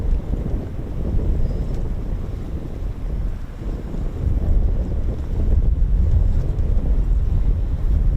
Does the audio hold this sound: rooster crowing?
no